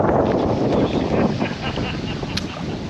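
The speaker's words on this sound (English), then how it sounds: "It's pretty windy, guys. Pretty freaking windy." Strong wind on an Ozark river during a fishing and gravel-bar camping trip buffets the microphone with a steady, close, rushing roar for the whole stretch.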